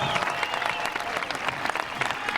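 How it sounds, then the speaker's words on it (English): Graduation ceremony audience at a high school commencement applauding class officers, a loud, full crowd of clapping hands with scattered cheers, sustained throughout and close. "Let's give them a round of applause."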